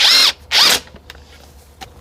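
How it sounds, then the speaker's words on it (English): A drill driver spins up in two loud whirring bursts, each about a quarter second long, while screws are driven into door sections in a market garden, with quieter clicks and handling noises following. "Drill driver and a screw gun."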